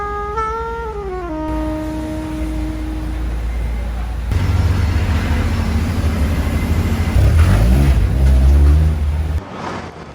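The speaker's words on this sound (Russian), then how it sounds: "После ремонта банки в машине стало намного тише. Выхлоп стал таким прям, ну не знаю, как сказать, благороднее" An old Honda Integra DC2 with a freshly repaired muffler, in Hong Kong, gives a steady low exhaust rumble that swells louder about midway and surges again near the end, as if revved.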